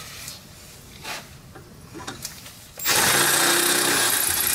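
A drill bores out 1/4 inch holes to 5/16 inch on a rear shock mount for a 2002 Cadillac DeVille DTS, starting loud and steady partway through after a quiet stretch of faint shop noise.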